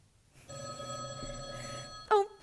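An old-style telephone bell rings steadily and fairly softly in a stage-play setting, a single sustained ring that cuts off with a brief clatter at the end, no voices over it.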